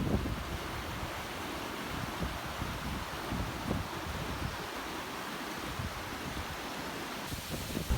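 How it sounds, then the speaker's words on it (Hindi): The Kumrat waterfall (Abshar) in Kumrat Valley roars as a continuous broadband rush of falling water, steady and enveloping, mixed with some wind buffeting on the microphone and no talking. "सुभान अल्लाह, बहुत ही ज़बरदस्त वाटरफॉल है"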